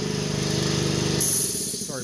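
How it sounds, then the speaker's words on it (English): An air compressor in a garage kicks on and runs loudly, a steady motor drone with rapid chugging pulses that fills the whole clip. "compressor kicked on"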